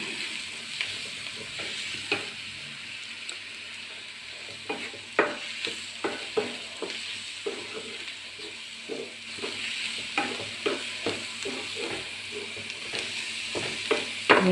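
Egg mixed with turmeric, Kashmiri chilli powder and pepper is stirred in a bowl, giving soft, irregular scraping and tapping strokes over a faint background hiss, close and without talk.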